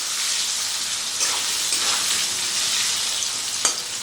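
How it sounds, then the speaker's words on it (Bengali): Diced potatoes fry with salt and turmeric in hot oil, giving a loud, dense, continuous sizzle with a few brief clinks of stirring, close up and without speech. "নুন হলুদ দিয়ে আলুটাকে খুব ভালো করে ভেজে নেব।"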